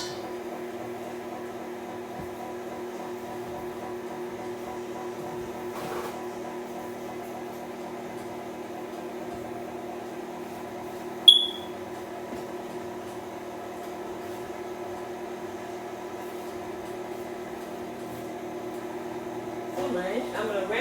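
A stand mixer runs on its stir setting through cream cheese cake batter, giving a steady low motor hum for the whole stretch. A person talks over it now and then.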